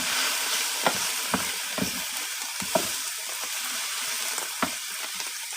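Cabbage sizzles steadily in a pan, a constant hiss broken by occasional sharp crackles and pops, close and moderately loud, with no voices.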